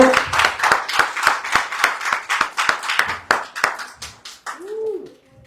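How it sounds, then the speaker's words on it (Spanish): At a Spanish-language church service, a congregation claps in a steady, rhythmic beat, about a dozen sharp even claps that gradually soften, followed by a brief voiced tone at the very end. "Denle un aplauso al Señor."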